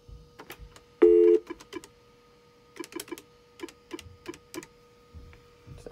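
A phone dials out to place a call: a single short keypad tone sounds, followed by a scattering of quick ticks and clicks at irregular intervals, faint and close.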